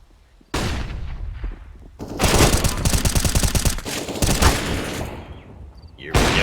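Rapid automatic gunfire bursts in a tactical shooter video game, loud and dense, with overlapping rattling shots and brief pauses, under excited esports commentary.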